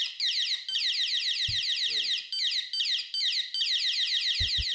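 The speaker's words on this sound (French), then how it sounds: "Cette alarme est doublement utile." A shrill, pulsing electronic alarm at a holiday camp sounds continuously and loud, warbling in rapid repeated sweeps, with a few brief thumps and a short voice underneath.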